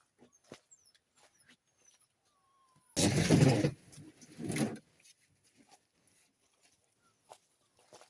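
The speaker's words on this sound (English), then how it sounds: "You hear a dog crying in the back." A dog whines and cries from inside a parked car, a loud burst of whimpering in two bouts over a quiet outdoor background with faint scattered noises.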